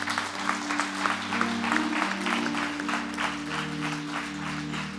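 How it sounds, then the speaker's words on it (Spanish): A church congregation applauds, with rhythmic clapping over a sustained background drone, moderately loud and steady throughout. "Den un aplauso al Señor."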